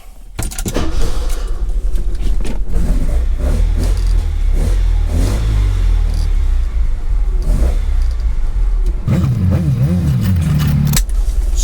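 A 1976 Alfa Romeo Alfetta GT engine revs and drives, a steady loud mid-pitched drone running throughout with a brief rising rev near the end and a light metallic jingle like keys early on.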